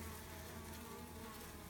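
Italian honey bees trucked up from Redding, California, buzz steadily in a dense, continuous swarm drone, fairly faint and without talk.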